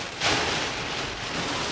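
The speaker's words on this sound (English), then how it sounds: "we just made it before the rain came in, and it is pouring" Heavy rain pours down on a van campsite in the Outer Banks during a storm, a dense, continuous hiss close by with a brief louder burst near the start.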